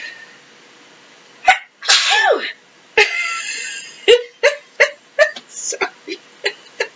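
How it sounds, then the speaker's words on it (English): Someone sneezes loudly up close, followed by a run of short sharp coughs and hiccup-like bursts in quick succession, with no other sound between them. "2 coughs and a sneeze."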